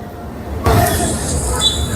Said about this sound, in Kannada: ನೋಡಿ, ಇನ್ನೊಂದು ಟ್ರೈನ್ ಬಂತು,